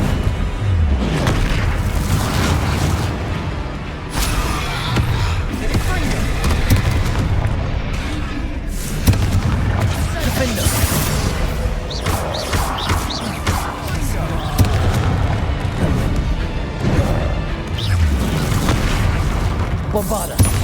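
Confringo spell blasts in the Hogwarts Legacy video game erupt as repeated booming explosions and crashes, dense and loud throughout, with shouted spell names and voices mixed in among the bursts.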